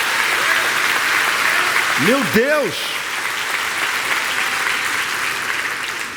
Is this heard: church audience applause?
yes